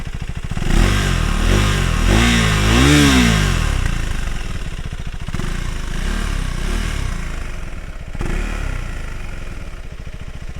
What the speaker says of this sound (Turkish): şurada bir motorun egzoz sesini dinleteyim istiyorum size